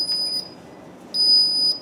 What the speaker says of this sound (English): That beep tells me that it's high and tight.